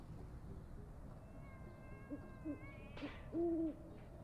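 A cat in the video game Conway: Disappearance at Dahlia View gives a few short, faint meows, the last one longer and clearer, over quiet game ambience.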